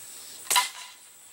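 One close, sharp snap from a Crosman 760 Pumpmaster air rifle firing a tipped pellet, with a short bright burst and a quick fade into quiet room tone.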